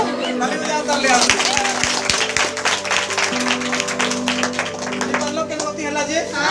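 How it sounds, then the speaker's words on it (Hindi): Students in a class clap hands together during a motion lesson, a sustained crowd of claps with a few sharper distinct claps, heard under a teacher's talk and steady background tones. "ताली बजाओ ताली"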